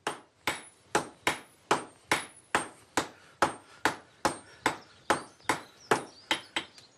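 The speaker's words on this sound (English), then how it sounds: "Peter and Martin will hammer the iron flat and then bend it at 4 corners" Iron being hammered flat on an anvil to form a stirrup shape, thirteen sharp ringing metallic blows in a steady, even rhythm, close and loud, with no talking.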